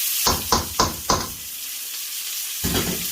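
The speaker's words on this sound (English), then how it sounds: "mashing up the potatoes. Yep. If you can mash the potatoes with a whisk, you know they're good" A whisk mashes boiled potatoes in a pot with four quick rhythmic scraping strokes, a pause, then one more stroke, close and fairly loud.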